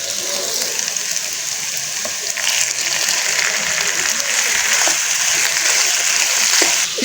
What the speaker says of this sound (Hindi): अब हम इसमें कीमा डालेंगे।